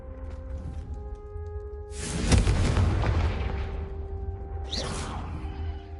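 A Confringo spell goes off in Hogwarts Legacy: a sudden loud fiery blast with a whooshing burst that rumbles and fades, then a second brighter swish a couple of seconds later, all over steady background music.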